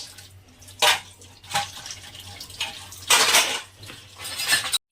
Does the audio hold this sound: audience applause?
no